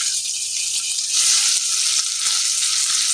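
Chopped onion sautéing in a pan for a pumpkin bhaji, a steady close sizzle and crackle of frying that swells slightly partway through and holds constant, with no voices.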